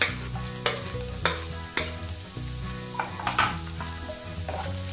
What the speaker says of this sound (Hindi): एंड देन मैं डालूंगी चॉप्ड अनियंस.